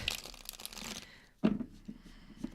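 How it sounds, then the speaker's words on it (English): Tarot cards are shuffled by hand in short papery riffles and rustles, close and fairly quiet, with a sharp burst partway through. "Shuffle correctly."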